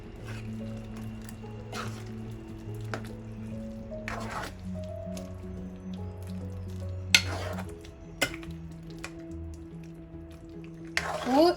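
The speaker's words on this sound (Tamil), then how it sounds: "இப்போ இதை கொஞ்சம் மிக்ஸ் பண்ணி நல்லா திறந்தே அவிய வைங்க" Chicken gravy simmering uncovered in a pan while being stirred, a steady low bubbling with soft wet squishes and occasional sharper scrapes of the spoon, close and continuous.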